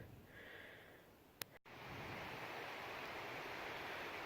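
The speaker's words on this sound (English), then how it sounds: "There's the river." A river flows beside a hiking trail in the Laurel Highlands, a soft, steady rushing wash broken by a brief click and dropout before it resumes evenly.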